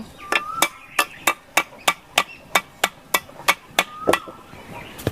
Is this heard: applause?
no